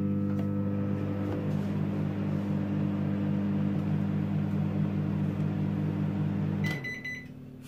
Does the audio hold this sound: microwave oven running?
yes